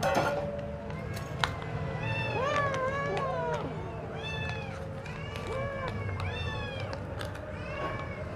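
Several Himalayan cats, kittens about two and a half months old, meow again and again, with high, overlapping cries close by over a soft background murmur.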